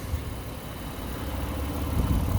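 A 2021 Honda Pilot Elite with all-wheel drive idles steadily up close, its engine giving a smooth, even low rumble throughout with no talking.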